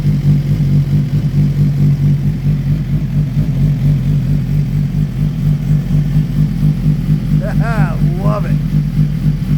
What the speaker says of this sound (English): That Yoshimura exhaust sounds great.